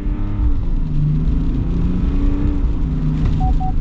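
A 2023 Chevy Silverado 1500 pickup with the Duramax diesel accelerating, heard as a loud, continuous engine drone from inside the cab with a faint whine rising over it, and no talk.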